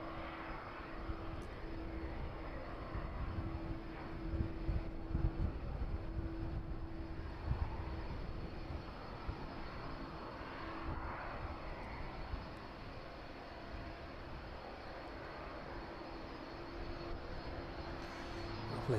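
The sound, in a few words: jet aircraft engines taxiing past at East Midlands Airport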